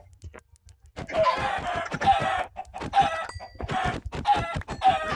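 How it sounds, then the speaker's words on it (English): Chickens in the Minecraft video game clucking repeatedly in short bursts, loud and close, with several squawking calls in a row and no talk. "I'm with the chicken!"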